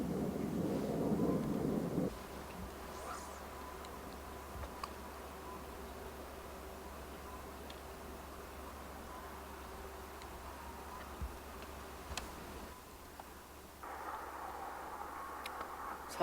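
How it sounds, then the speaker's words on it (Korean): Frogs and narrow-mouthed toads croaking around a small reservoir in early summer: a continuous droning chorus, louder at first, then quieter, with a higher trilling layer near the end. "개구리 소리도 정겹네요"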